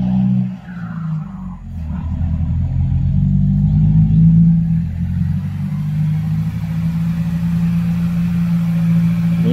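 A truck engine roars heavily right after a shift back into second gear, a loud continuous close rumble that swells and holds steady with no talking.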